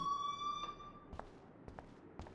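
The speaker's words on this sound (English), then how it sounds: "he turned off the alarm." A sustained electronic alarm tone sounds in the school setting of the video game Life is Strange, then cuts off and is followed by a few faint knocks and clatters.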